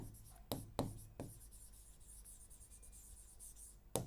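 Marker or chalk strokes on a classroom board, a few sharp taps and short scratchy strokes near 0.5–1.2 s and again at the end, with quiet room tone between and no talk.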